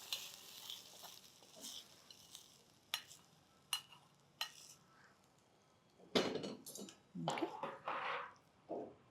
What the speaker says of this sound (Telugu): తాలింపుని పెరుగులో చక్కగా కలిపేసి